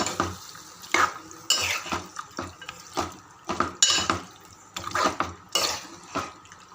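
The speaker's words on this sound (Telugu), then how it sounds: "బాగా కలుపుకోవాలి. మసాలా అంతా పట్టేట్టు కలుపుకోవాలి." Chicken coated in masala is stirred in a pan, a spoon scraping and clanking against the metal in uneven bursts over a soft background sizzle, close up with no voices.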